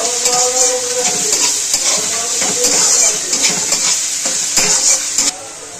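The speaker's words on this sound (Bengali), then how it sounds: "লঙ্কা, কাঁচা লঙ্কা কোচানো গুলো, একটু নাড়িয়ে চাড়িয়ে নেব।" Chopped green chillies stirred in a hot pan for chicken tarka give a loud, close sizzle and hiss, broken by a few quick scrapes and clinks of the spoon against the metal.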